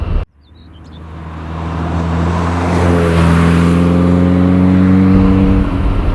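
A Ferrari 308 engine starts and revs up through a new stainless sports exhaust, rising from a low rumble to a loud, sustained roar with a deep bassy tone, then dropping off.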